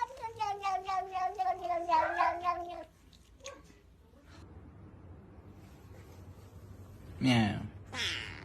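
A cat meows repeatedly in long, harmonic cries for about three seconds, fairly close and loud, followed by quieter room noise and a short burst of human talk near the end.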